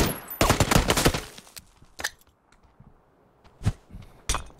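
Video game gunfire rings out as a dense cluster of sharp, loud shots in the first second or so, followed by a few isolated cracks spaced apart against a quiet background.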